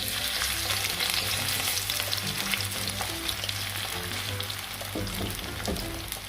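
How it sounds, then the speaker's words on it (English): Small fish bits frying in a little hot oil, a dense continuous sizzle with crackling pops that holds steady throughout, close and without talk. "And we're just going to fry them until they're golden brown."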